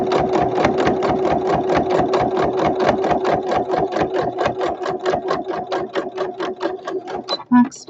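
A sewing machine running along the side of a toiletry bag in a steady, rapid stitching rhythm that slows toward the end, then stops with a short clatter as it back-stitches, close up and clear.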